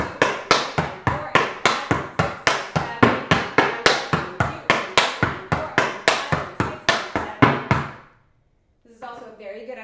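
Tap dance steps in a Broadway / Shirley Temple style variation, a flap, heel and toe pattern: an even, steady run of crisp, close metallic taps that ends abruptly, followed briefly by faint voices.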